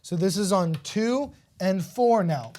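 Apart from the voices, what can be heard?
No everyday noise stands out behind the speech.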